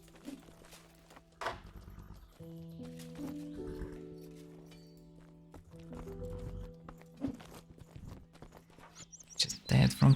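Horse in Mortal Online 2, hooves clip-clopping in uneven bursts with a whinny, heard faintly amid game effects and someone talking.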